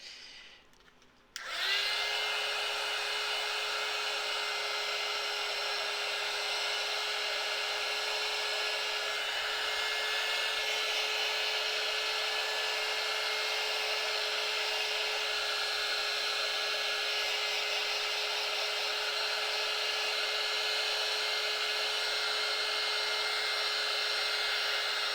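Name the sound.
heat gun blowing on polymer clay pendants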